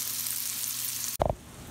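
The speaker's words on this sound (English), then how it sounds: "we're gonna brown the onion for about, I don't know, 8 minutes until it's nice and soft" Onion browns in a pan for slow cooker bacon, cheddar and cauliflower soup, giving a steady close sizzle that breaks off into a few clattering knocks near the end.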